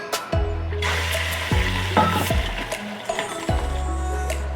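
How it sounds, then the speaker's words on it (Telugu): Prawns fry in a little oil in a kadai, a steady loud sizzle broken by a few heavy clunks and scrapes of a spoon stirring against the metal pan. "ముందుగా కళాయి పెట్టుకొని కొద్దిగా ఆయిల్ వేసుకొని అందులో రొయ్యలు వేయాలి"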